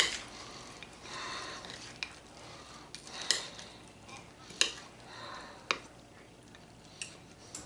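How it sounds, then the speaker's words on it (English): A taco salad with Fritos is stirred and tossed in a bowl, making soft, close crunchy rustling broken by a few sharp clicks and scrapes spaced a second or so apart. "Do a little mix up. That way those Fritos get coated."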